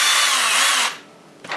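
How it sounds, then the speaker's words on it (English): A power drill reams the top of a screw hole in a wood cabinet to make a countersink, a loud close high whine for under a second that cuts off, then a brief restart. "I'm gonna ream the top of it"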